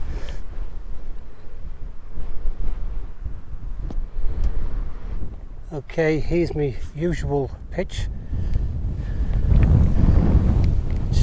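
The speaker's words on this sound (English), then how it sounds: "Yeah, that's a bit windy." Strong wind buffets a hilltop crag at night, heavy gusts rumbling across the microphone and swelling louder near the end, while someone talks briefly midway.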